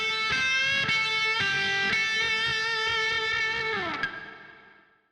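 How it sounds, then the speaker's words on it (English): Lead guitar solo with distortion, sustained notes shaped by pull-offs, quarter-tone bends and vibrato, played alone and loud before ringing out and fading at the end. "you'll add pull-offs, quarter tone bends, and vibrato, which sounds like this."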